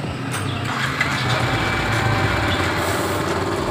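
A Yamaha motorcycle engine idles steadily with a high, buzzy, fast-ticking running note, close and fairly loud throughout with no talk.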